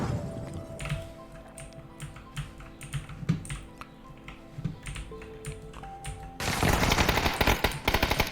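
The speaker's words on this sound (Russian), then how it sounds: "Первая перестрелка." Gunfire in a PUBG firefight, rapid and slightly irregular shots crackling over steady keyboard typing, then a denser, louder volley near the end.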